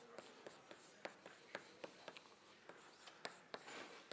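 Chalk tapping and scratching on a board during a university multivariable calculus lecture, a quiet, irregular series of short clicks and strokes with no speech.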